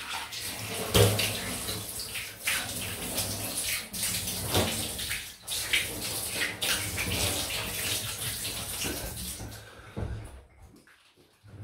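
Water runs steadily and close as a face is rinsed after a shave with a Homelike Start double-edge safety razor, with a few soft knocks along the way, then it thins and fades near the end.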